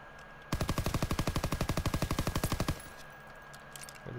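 A rapid, sustained burst of automatic gunfire from a gun in Call of Duty WW2, some twenty evenly spaced loud shots over about two seconds, then a brief quiet tail with faint mechanical clicks.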